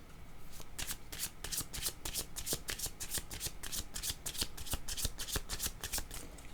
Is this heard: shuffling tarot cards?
yes